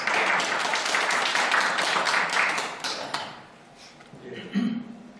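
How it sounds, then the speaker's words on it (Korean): Brisk audience applause welcoming a sociology professor to the lecture podium, loud and dense for about three seconds before tapering off into a few faint knocks and shuffles. "박수로 환영해 주시기 바랍니다"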